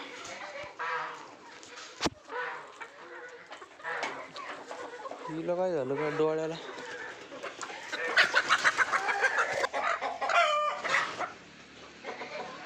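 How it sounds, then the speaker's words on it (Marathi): Chickens being let out in a village cluck and squawk nearby, with a rooster-like call among them, while a person talks over the birds. "चला कोंबड्या सोडून देतो मी आता"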